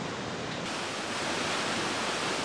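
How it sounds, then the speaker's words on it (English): Steady, full-spectrum rush of a waterfall in a forest on Hawaii's Big Island, continuous and close, with no voices over the water. "this is one of the most beautiful waterfalls we've ever seen"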